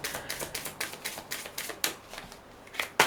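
A deck of tarot cards being shuffled by hand close up, a steady rhythm of soft, papery slaps and riffles ending in a sharper snap of cards.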